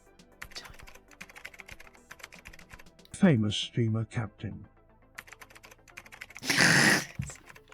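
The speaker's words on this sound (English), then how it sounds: "Can you hear me typing as well?" Rapid clicking of typing on a computer keyboard runs through the whole stretch, steady and close, with a burst of speech in the middle and a loud noisy outburst near the end.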